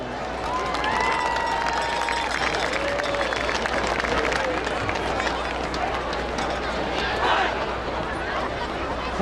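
Crowd applause and cheering in a football stadium for a high school marching band's senior class, steady broad clapping and voices filling the space with a brief swell near the end.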